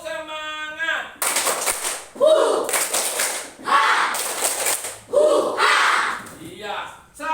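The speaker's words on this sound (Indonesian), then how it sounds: "Tepuk semangat." A school class performs the rhythmic tepuk semangat spirit clap: a group of voices chanting and bursts of many hands clapping in patterned rounds, with a teacher calling the cue.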